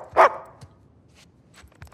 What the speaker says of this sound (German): Unser Hund möchte spielen, wie süß